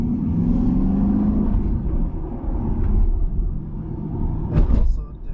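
A Corvette in quiet mode rumbles low and steady while driving, a subdued engine drone mixed with road noise under a person talking, with a brief sharper knock near the end.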